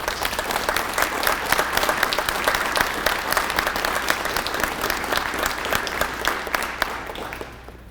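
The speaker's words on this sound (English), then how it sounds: "Let's give our national organization officers and these award winners a round of applause." A high school JROTC awards ceremony audience gives award winners and officers a round of applause, brisk, dense clapping that holds steady before tapering off at the end.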